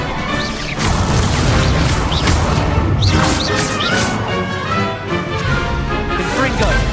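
Levioso spell cast during a Hogwarts Legacy duel, a burst of crashing, whooshing magical impacts and swishes in quick succession, loud and busy with overlapping clashes throughout; shouted voices occur in the fight.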